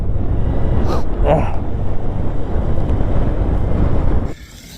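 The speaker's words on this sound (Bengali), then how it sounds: "প্রচন্ড হাওয়া দিচ্ছে, উইন্ড ব্লাস্ট আসতে পারে।" Strong wind roars and buffets the microphone without a break on a mountain motorcycle ride, the Bajaj Avenger 160 off-road on the Mustang to Pokhara route in Nepal. The rushing noise is loud and close, then drops sharply just before the end.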